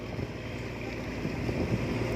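A tugboat engine drones steadily amid gusting wind noise and splashing water, a rough continuous rumble heading out into the Gulf of Thailand from the Pattani River.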